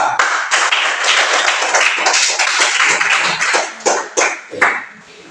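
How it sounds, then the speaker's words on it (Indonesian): Classroom applause for a student group, a loud burst of many hands clapping steadily for several seconds before tapering off. "kita berikan aplaus untuk kelompok 2"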